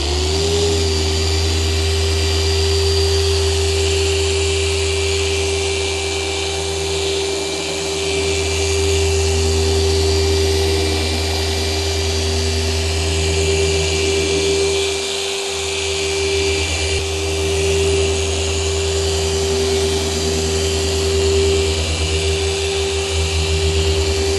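A Rupes PoliClip 2 car polisher running at speed 5 on the paintwork of a BMW E92 gives a loud, steady whine with a constant low motor hum for the whole stretch, with no talk.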